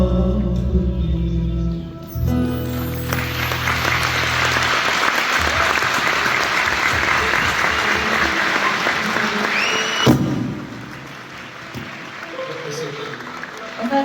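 Sustained applause from a large audience fills most of the clip, with a short burst of music and voices at the start.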